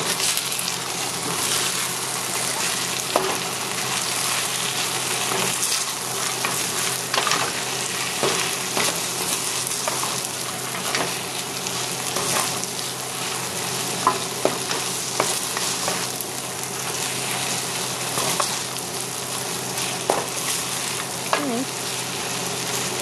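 An egg fries and is stirred with noodles in a hot pan for Pad Thai, giving a loud, continuous sizzle broken by frequent scraping and clattering stirs close by.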